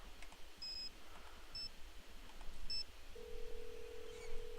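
Short electronic keypad beeps as a phone is dialed in a Nancy Drew adventure game, three faint spaced tones followed by a steady low dial or ring tone, quiet and without talking.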